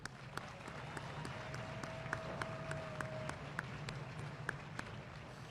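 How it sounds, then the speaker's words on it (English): Audience applause at an Army graduation ceremony and retirement review at Fort Jackson, a steady, even wash of many hands clapping throughout, moderately distant with a few sharper individual claps standing out. "Please join me in a round of applause for this great band."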